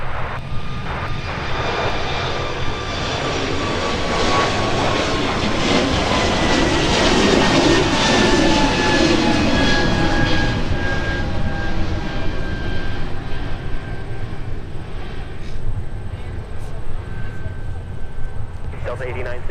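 A Delta jet departs a runway at Minneapolis–St. Paul airport with a loud, sustained engine roar and a slowly falling whine as it climbs away, while someone talks over it.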